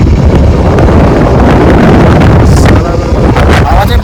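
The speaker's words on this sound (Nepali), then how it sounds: "हावा चाहिँ बगान चिसो चल्दैछ" Cold wind sweeps through a jungle, roaring loudly and continuously against the microphone in heavy gusty buffeting that barely lets up for the whole stretch.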